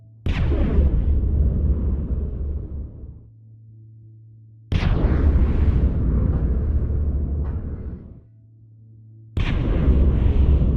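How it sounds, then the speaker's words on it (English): In the VR game Lone Echo, a spacecraft's primary thrusters fire three times as loud, roaring blasts, each a sharp onset followed by a rumbling, sustained burn over a low hum. "Igniting primary thrusters."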